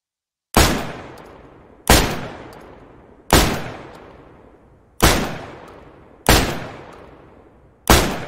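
Six loud, evenly spaced shotgun blasts firing slugs in DayZ, about one and a half seconds apart, each a sharp crack followed by a long decaying echo, with no voices.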